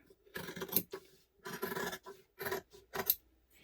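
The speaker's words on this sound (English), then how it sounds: "grab our scissors." Scissors snip through fabric, including an underneath layer, while cutting pieces for an urban messenger diaper bag: four quick, close, crisp bursts of cutting, separated by short pauses.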